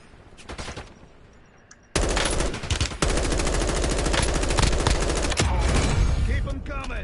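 Sustained machine gun fire in Call of Duty rattles loudly in rapid continuous bursts after a quieter opening with a few scattered shots, nearly unbroken for several seconds, with brief speech near the start.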